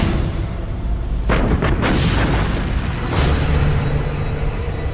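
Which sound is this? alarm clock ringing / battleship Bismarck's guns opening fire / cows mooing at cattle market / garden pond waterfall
battleship Bismarck's guns opening fire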